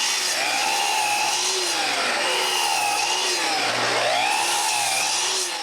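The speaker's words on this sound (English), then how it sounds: "Move the stop and cut the stiles." A power saw cuts wooden stiles for a closed bookcase, a steady loud whining drone that dips and swells in several even waves as the blade works through the wood.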